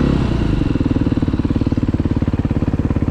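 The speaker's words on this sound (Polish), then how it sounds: "Dzisiaj ze Sławasem relaks na motocyklach" A motorcycle engine runs steadily nearby with a rhythmic low chugging pulse and light mechanical clatter, heard alone without talk.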